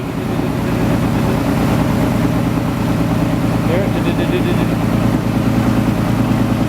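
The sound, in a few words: VJ Valiant ute engine running with a misfire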